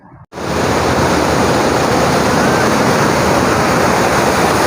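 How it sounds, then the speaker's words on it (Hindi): Broad, steady rush of river water flowing at Islam Headworks on the Sutlej River, loud and continuous after a brief quieter moment at the start, with no voices. "इस साइड ते पानी चल रहा है"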